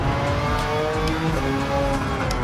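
A race car's engine in the video game Gran Turismo 7 drones loudly and steadily at high revs, with rising and falling tones and faint tire squeal, and no voices over it.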